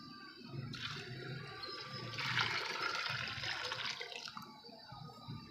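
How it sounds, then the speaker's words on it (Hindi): Water poured in a steady rushing stream into a cooking pot of lentils, about two to two and a half litres for chicken haleem, swelling louder midway before easing off. "इसके अंदर हमने पानी खुला डाल देना है, ताकि जो हमारी दाल है वो अच्छे तरीके से गल जाए।"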